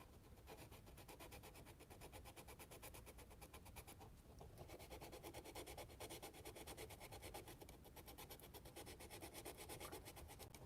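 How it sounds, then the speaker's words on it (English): Steady, continuous rasping of sandpaper worked back and forth over a plastic scale model Corvair car body, close and fairly quiet, with no talking. "All right, let's sand it a little now."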